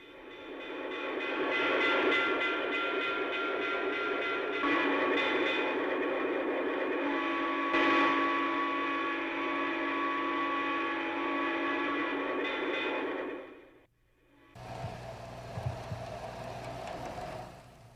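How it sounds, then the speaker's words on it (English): A small Lionel model train hums and clatters along a track through a New England village layout, with a steady whirring drone that cuts off, followed by a quieter mechanical rumble. "in this New England village, there is plenty of train action."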